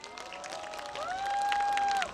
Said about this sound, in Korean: 애니메이션 크루입니다. 큰 박수 부탁드립니다.